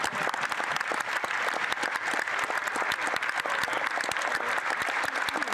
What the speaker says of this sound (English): They have spent more time clapping for themselves than he has actually reading the speech.